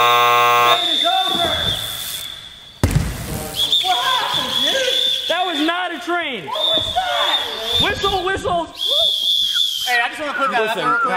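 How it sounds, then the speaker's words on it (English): A shrill, steady train whistle tone holds for long stretches, with a short break, over lively overlapping voices and chatter. "Blow the whistle again."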